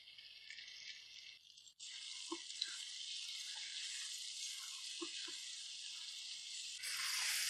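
Chicken frying in a pan for a karahi, a steady loud sizzle and hiss running throughout, with a few soft knocks and stirring sounds and a brief dip before the sizzle resumes.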